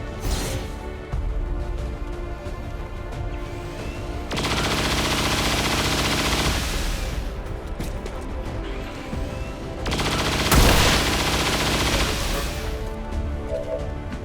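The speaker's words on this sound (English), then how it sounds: "rapid firing the mech because it's our biggest threat" Rapid gunfire aimed at a mech in XCOM 2, sustained bursts of automatic fire in two or three loud volleys with crashing impacts, close and prominent.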